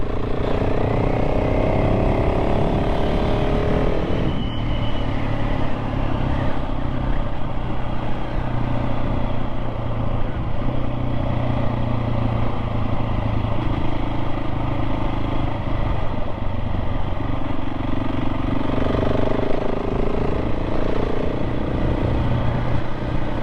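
A KTM 690 SMC-R single-cylinder motorcycle ridden along gravel-strewn farm back roads, its loud, steady engine drone shifting pitch as it changes gear and speed, with constant wind rush throughout.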